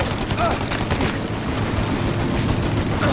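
Dense gunfire rattles continuously in a Mafia: Definitive Edition shootout, loud rapid overlapping shots with no pauses.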